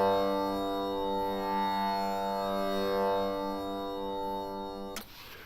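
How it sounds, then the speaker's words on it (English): A single tambura drone in mono hums steadily with rich buzzing overtones, sustained and unchanging for several seconds before it cuts off abruptly. "what we're hearing now is a single tambora coming out of the center speaker."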